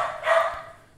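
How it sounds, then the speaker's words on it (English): A single dog bark, loud and close, swells and fades in about a second against a quiet room. "Sorry about the dog barking."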